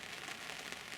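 Rain falls steadily on a fishing lake after windy northwesterly weather, a dense, even hiss of drops close by with no voices.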